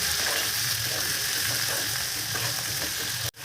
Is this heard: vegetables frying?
yes